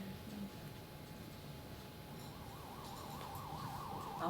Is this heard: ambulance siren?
yes